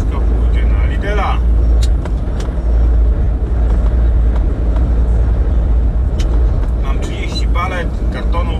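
A MAN TGX 440 truck hauling a load of cardboard boxes drives steadily, its deep, constant engine drone and road rumble filling the cab, with brief whistling and clatter on top and a voice talking over it.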